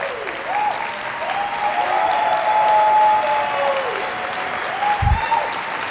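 A large conference audience at a keynote applauds loudly and steadily for several seconds, with a thick wash of clapping and some crowd noise.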